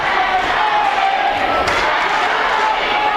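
A crowd at a high school sectional wrestling match cheers and shouts in a loud, continuous roar, with a commentator's voice running over it.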